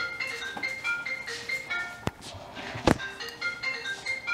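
A mobile phone rings with a repeating melodic ringtone, heard faintly and steadily over several seconds, broken by a couple of sharp clicks or knocks.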